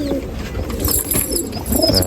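A prized breeder pigeon in a loft corner in Nashik coos in low, throaty rolls, a few repeated phrases close by, with faint chirps from other birds behind.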